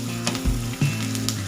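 Onions sizzle in a pan while cooking down for a masala, a loud, steady close frying hiss with a couple of brief stirring scrapes.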